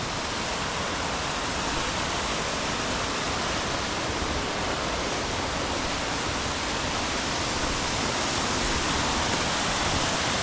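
The lower falls of Indian Flats Falls on the Middle Prong Trail roar in a steady, dense rush of falling water, loud and unbroken throughout.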